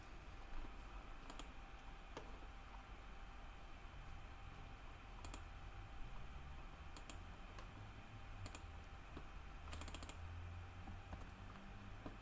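Computer mouse clicks sound as scattered sharp ticks, some single and some in quick pairs and short runs, faint against a quiet room background.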